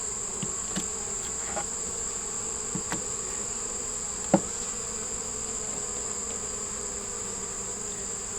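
Honeybees drone steadily inside an open beehive, a constant close buzz with a few faint clicks and one sharp knock partway through; no one speaks.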